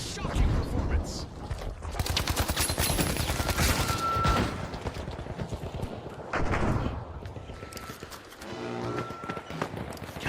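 Dense, rapid video game gunfire in an arena shooter match, with continuous bursts and volleys packed close together, loud and up front with voices talking over parts of it.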